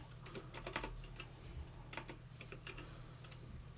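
Keys clicking on a computer keyboard, a run of light, quick taps, quiet and close, over a steady low electrical hum, with no one talking.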